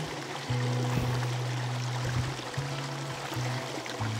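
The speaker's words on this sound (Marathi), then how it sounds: "सर रस्त्याच्या कडेलाच एक असा छानसा झरा वाहतोय" A small stream runs right beside a roadside, flowing in a steady, close broadband rush, with a low droning hum in the background throughout.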